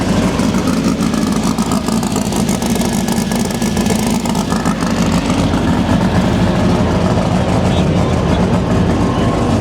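A turbocharged VW Beetle drag car engine revs hard at a street drag racing weekend, a loud, steady, close roar that holds throughout with no pause.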